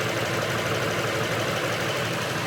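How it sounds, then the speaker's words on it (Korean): A steady, droning Lexus LS460 engine idling close by after starting, a constant low rumble with no voices. "일단 시동 한번 걸어보죠."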